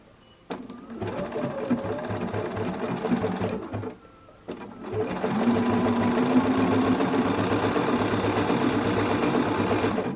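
A regular domestic sewing machine stitching knit fabric, a fast steady mechanical whirring hum that starts abruptly, pauses briefly, then resumes and runs continuously, close and clear with no talk.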